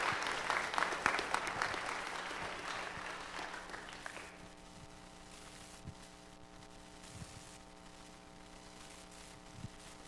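An audience at an Eagle Scout Court of Honor claps in a warm round of applause that fills the first four seconds, then fades, leaving a steady hum and a few scattered sounds.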